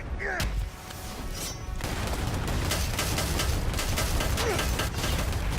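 Sustained rapid gunfire in the video game Predator: Hunting Grounds, a dense automatic stream of shots running for several seconds at steady loudness, with brief voices mixed in.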